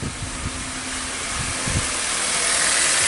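The engine of a 2015 Hyundai Accent with a crank sensor fault, running rich and stalling, idles steadily with a broad airy hum and a few low periodic thumps, growing slightly louder over the few seconds.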